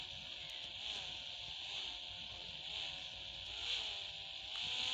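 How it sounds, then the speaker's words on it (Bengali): A worn-out car engine in a video game runs with a faint, buzzy, rasping hum whose pitch wavers up and down as the revs rise and fall. It plays alone, with no speech. "এই গাড়ির ইঞ্জিনটা কিন্তু অনেক খারাপ হয়ে গিয়েছে দেখেন।"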